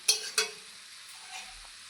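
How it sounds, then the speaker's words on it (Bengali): Water splashed into a pan of frying taro flowers, giving two quick sharp splashes and a brief sizzle that settles into a faint, quiet hiss. "তাই অল্প একটু জল দিয়ে দিব।"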